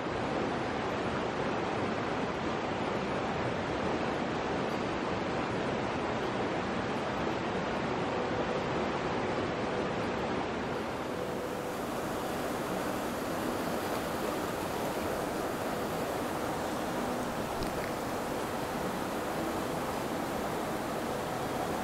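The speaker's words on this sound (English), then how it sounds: "I hope you can hear me over the river" Loud, steady roar of white-water river rushing through the Great Smoky Mountains in spring, a dense continuous wash of broadband noise that fills the whole stretch without pause.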